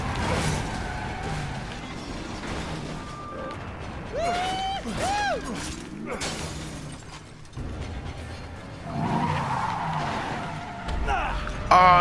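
A car driven in Resident Evil 7 rattles and clanks over a low engine drone, with bursts of tire squeal and scraping skids, some impacts, and occasional voice sounds under the mechanical noise.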